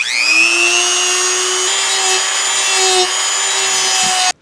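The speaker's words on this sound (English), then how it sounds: "I'm gonna try first with sandpaper on my Dremel wheel" A Dremel rotary tool with a sandpaper wheel cuts steadily, giving a loud, close, high-pitched whine that holds for about four seconds before abruptly stopping.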